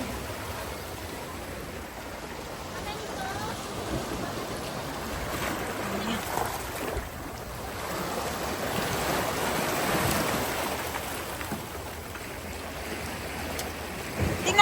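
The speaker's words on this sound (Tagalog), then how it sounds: "ang lakas ng alon" Strong ocean waves surge and wash continuously on a beach, a broad roaring rush of surf with wind, swelling and easing over time.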